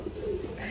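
A pigeon from a pair gives a short, low, soft coo, close by and faint, heard alone.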